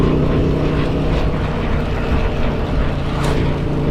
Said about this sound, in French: Tiens, un petit jet stressant.